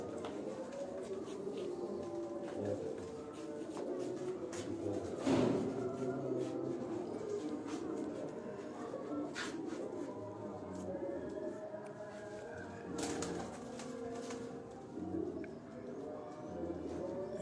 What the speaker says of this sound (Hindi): ये अली भाई के घर के 200 मिस्से कबूतरों का आपको शौक करवाया जा रहा है।